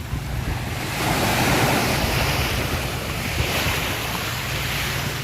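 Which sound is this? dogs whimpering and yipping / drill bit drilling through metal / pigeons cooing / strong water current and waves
strong water current and waves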